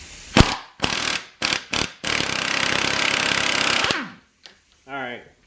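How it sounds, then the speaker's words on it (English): Impact wrench hammering at a tight nut on a hydraulic cylinder during a rebuild, several short loud bursts then a long sustained rattling run, up close, with a voice briefly at the end. "we're just going to take an impact wrench and see if we can get this bolt off."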